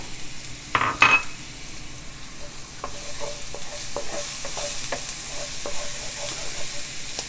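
Vegetables sautéing in a pan for Peruvian chicken tallarín saltado, opening with a loud rush and clatter, then a steady sizzle under repeated metallic taps of a utensil against the pan.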